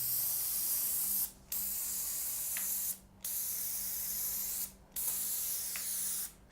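A spray gun applies TensorGrip X40 adhesive onto brick and an acoustic panel, held about 150 mm from the surface, giving steady loud hissing bursts of roughly 1.5 seconds separated by short pauses, with no talking.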